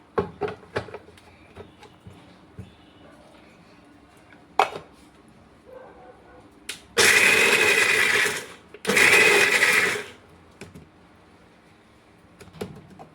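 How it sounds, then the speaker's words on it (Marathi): A kitchen mixer grinder runs in two loud bursts of about two seconds each, coarsely crushing dry-roasted peanuts, with a pause between them and quieter handling clatter before and after. "आता मी मिक्सरला अगदी हबड धोबड म्हणजे मोठालेच काढायचे, खूप बारीक नाही करायचे शेंगदाण्याचा कूट"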